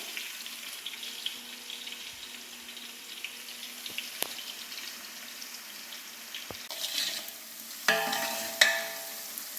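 Onions frying in a large pot for chicken kurma, cooked for about 40 people, a steady broad sizzle with occasional sharp scrapes and clanks of stirring, growing busier and louder toward the end, no voices.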